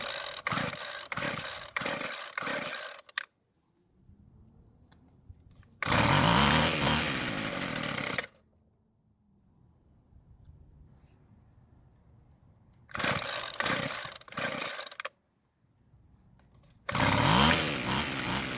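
Rebuilt string trimmer engine being pull-started, with a quick series of cord pulls followed by longer loud bursts of the small engine briefly catching, separated by near-silent pauses.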